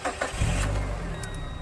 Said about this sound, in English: So giving the 2001 Mazda MX-5 Miata a start.